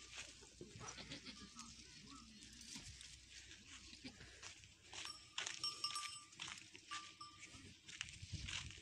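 Goats bleating on a village farm in Pakistan, with calls rising over the rustle of the yard while people talk nearby throughout.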